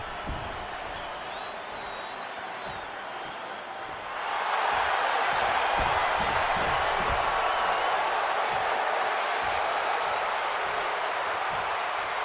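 Capacity arena crowd in the video game WWE 2K26 for a CM Punk versus Seth Rollins match, a steady crowd murmur that suddenly swells into loud, sustained roaring cheers that hold to the end.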